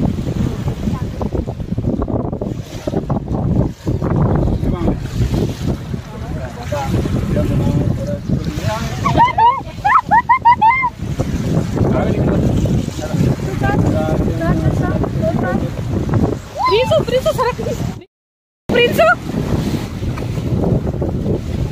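A boat motors across backwater, wind buffeting the microphone steadily with water rushing and splashing against the hull throughout, broken by a brief dropout near the end; voices chatter over the noise.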